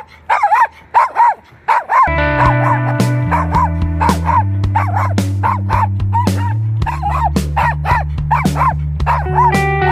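Dog barking in repeated sharp yaps, near and loud, over steady music with sustained tones underneath for most of the clip.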